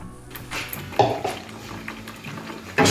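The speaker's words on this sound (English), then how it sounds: "You can just hear that water that is blowing off" Soft bubbling and sizzling of water cooking off a thin tomato sauce in a pan, with a few clinks of a utensil against the pot and a louder burst at the end.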